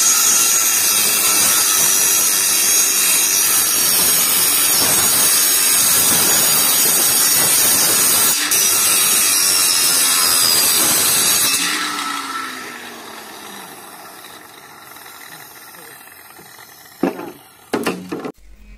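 Tools cut bamboo at a farm construction site for a 2500 sq. ft broiler farm in Assam, a loud, dense rasping and grinding that runs for about eleven seconds, then fades into quieter background noise with a few sharp knocks near the end.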